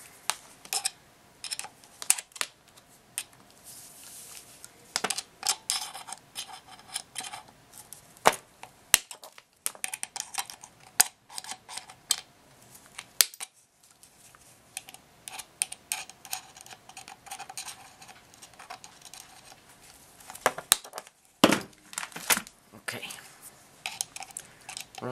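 Cutting into a plastic bottle by hand, a scattered run of clicks, snips and crackles close to the mic with brief pauses between.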